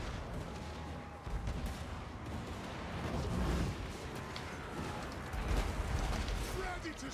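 Dwarf grudge throwers and troops fire in a Total War: Warhammer 2 battle, a dense continuous rumble of launches and impacts with crackling volleys throughout, a voice talking over the din.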